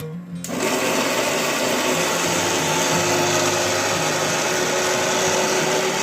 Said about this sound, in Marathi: आता हे सर्व आपण बारीक करून घेणार आहोत।